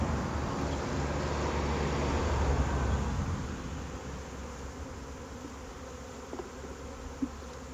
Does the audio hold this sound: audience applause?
no